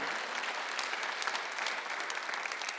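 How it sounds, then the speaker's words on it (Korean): Applause from a church congregation during a Sunday worship sermon, a dense, steady wash of many hands clapping at moderate level throughout, with no voices standing out. "박수 한번 주세요."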